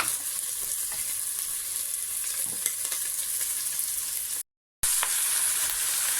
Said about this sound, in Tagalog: Ilagay ang karne ng baka na mince. Tapos, halo-haloin.